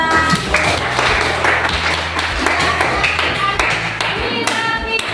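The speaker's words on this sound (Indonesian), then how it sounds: "Tepuk tangan dulu kita semua." Group of people in a classroom clapping their hands together in a lively, steady burst of applause that lasts throughout, close and loud.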